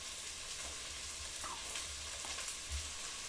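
Garlic paste sizzles in a frying pan, a soft steady hiss of frying with faint stirring scrapes, low in level and without voices.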